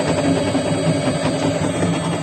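A 900 rpm electric motor drives a home feed pellet mill making compound feed, giving a steady, loud, continuous hum with mechanical vibration and no pauses.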